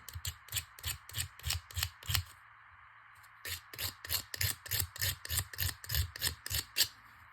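Nail file rasping down a sharp edge on an inexpensive metal charm: a quick run of rhythmic back-and-forth strokes, a short pause, then another steady burst of filing, close and fairly loud with no talking.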